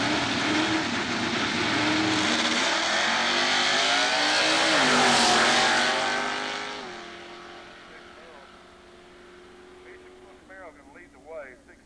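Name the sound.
drag racing cars, 1969 Chevrolet Camaro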